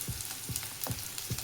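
Chopped onions frying in a pan as the first vegetable for a wholewheat-flour pasta, a steady close sizzle broken by four evenly spaced low knocks of stirring, with no voices.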